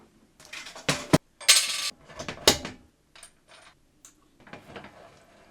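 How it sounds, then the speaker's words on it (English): Small metal washers and cotter pins clink and rattle as they are fitted onto a steel hand truck's axle. Several bright metallic clatters come first, followed by softer scattered taps. "Now we can throw in a washer, and another washer, and another cotter pin."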